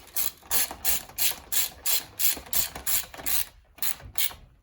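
A ratchet cranks M6 valve cover bolts down on a Honda TRX450R engine in a steady run of about a dozen quick clicking strokes, close up and loud, with no talk.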